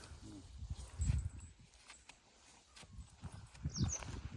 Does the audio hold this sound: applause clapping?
no